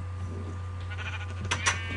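Sheep bleating in the video game Minecraft, two short bleats near the end of the clip over a steady low game hum, with no talking.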